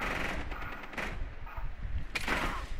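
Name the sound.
gunfire from the video game Rainbow Six Siege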